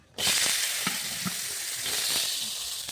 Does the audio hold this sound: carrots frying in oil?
yes